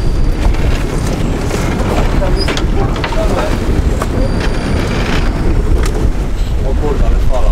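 Rough sea water splashes and thuds steadily against a boat hull while heading out to sea, with wind rumbling into the microphone throughout.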